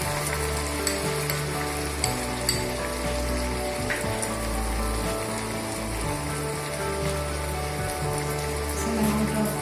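Onion, red chili and ginger pastes sizzling with turmeric powder in hot oil for a Bengali prawn malai curry, a loud close, continuous frying crackle with occasional stirring scrapes.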